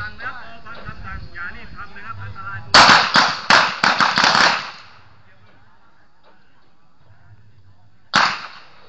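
Sharp, loud gunshots from a Glock 19 pistol at a shooting range, a rapid cluster of about six cracks followed later by one more isolated shot, with talk before them.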